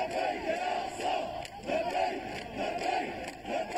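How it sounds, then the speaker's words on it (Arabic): Protest crowd in the streets of Amman, Jordan, chanting a religious slogan in unison, with rhythmic rising-and-falling shouts repeating roughly every half second, loud and massed with outdoor echo. "لبيك يا أقصى، هتاف ارتجت له شوارع العاصمة الأردنية عمان."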